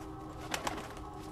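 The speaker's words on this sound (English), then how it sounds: "The bird brought me a matchbox." Brief bird coo in the Thief video game: two short, soft calls in quick succession over a faint steady hum, fairly quiet.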